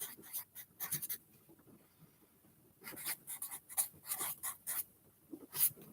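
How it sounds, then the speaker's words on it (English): Pen writing on paper close up, scratchy strokes in short irregular bursts separated by brief pauses. "Let me write this down."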